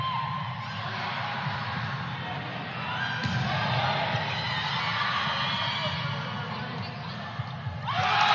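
Home crowd at a college volleyball match between George Washington and NC State in an arena, a steady roar of cheering that swells midway and stays loud throughout, with a brief thump near the end.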